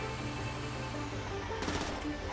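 Gunfire in the video game GTA V, a rapid burst of game shots heard amid dense, busy game background sound, moderately quiet and without clear talk.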